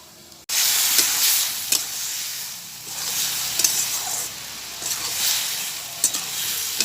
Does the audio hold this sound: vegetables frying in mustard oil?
yes